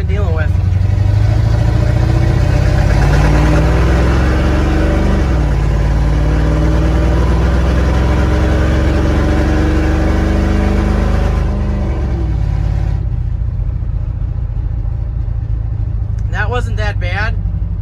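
Small-block V8 in a Chevrolet C20 squarebody pickup running with a slight misfire, a steady low engine rumble that holds for most of the stretch, then fades near the end as a voice comes in briefly.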